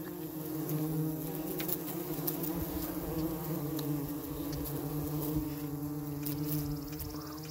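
Bumblebees feeding on a pollen patty give off a steady, soft close-up buzz, with a continuous droning hum of wings and no voices.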